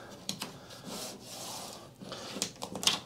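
Wood being hand-sanded with 220 grit sandpaper while repairing a towel rack: quiet, close, scratchy rubbing strokes in an uneven rhythm.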